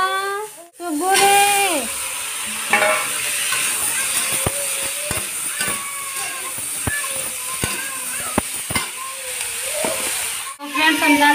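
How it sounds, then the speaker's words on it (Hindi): Hot oil sizzles and hisses steadily as spices hit the pan for tempering lentils, with clinks and taps of utensils and a child's cries over it. "हम दाल में छौंका लगा लेते हैं"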